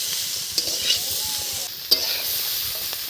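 Greens with spice powder lightly frying in a pan give a close, steady sizzle, with a few sharp utensil clinks and scrapes over the hiss and no speech.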